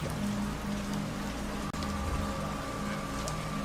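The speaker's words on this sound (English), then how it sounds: "It's raining outside." Steady rain falls outside as a continuous, even hiss of drops with a low rumble beneath, unbroken except for one brief sharp dropout midway.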